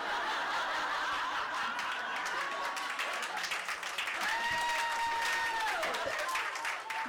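A comedy club audience breaks into dense, sustained applause mixed with laughter, loud and continuous throughout, while some whistles rise over the clapping.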